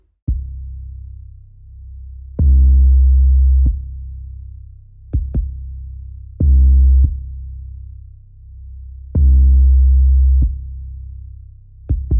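Deep pitched 808 bass notes, pitched up an octave, booming in a slow, repeating trap pattern, with sharp clicks marking the beat and sustained low tones between.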